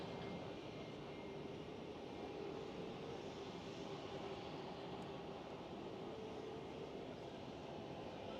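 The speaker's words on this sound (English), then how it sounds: "And KLM Airbus A321neo arriving." A KLM Airbus A321neo arriving at Amsterdam Schiphol gives a steady, loud jet roar that holds unbroken and even throughout, with no voices over it.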